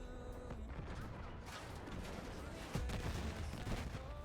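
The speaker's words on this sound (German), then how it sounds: "warum explodiert denn da alles?" Gunfire and explosions in the video game Battlefield 6 rattle on continuously, with bursts of shots and heavier booms, one louder blast near the end, while a player talks over the din.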